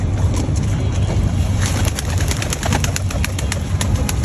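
A flock of pigeons, including young birds, at a small patch of village-like space within a busy city. Their calls blend into a steady, dense wash of outdoor noise with no speech.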